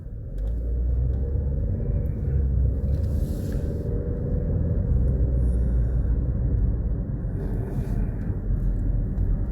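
Car being driven, heard from inside the cabin as a steady low rumble of road and engine noise, constant and unbroken for the whole stretch.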